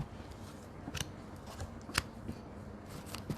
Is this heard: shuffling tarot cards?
yes